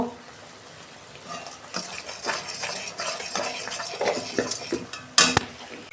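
Ginger and tomato with turmeric being sautéed in a pan: soft sizzling under intermittent spoon scrapes and clinks, building slightly, with one sharp metallic knock near the end, close by.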